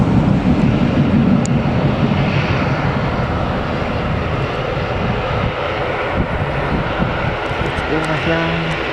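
An EasyJet airliner passes overhead above the clouds near Newcastle Airport, a steady broad engine roar with wind buffeting the microphone, holding loud throughout.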